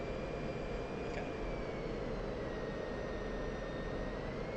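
Steady, loud broadband roar of an F-16 Viper fighter jet engine during airshow practice, with a thin whining tone drifting through it and no pauses, heard close and alone.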